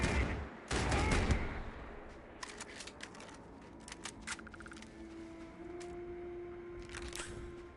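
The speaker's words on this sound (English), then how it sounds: "Switch back onto the assault rifle or my battle rifle" Gunfire from an assault rifle or battle rifle in the Starfield video game: a loud burst of rapid shots opens the clip, followed by scattered sharp single reports and short volleys over a humming background.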